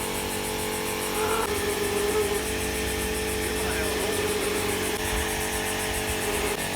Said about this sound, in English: Harrison, who now has the air compressor helping him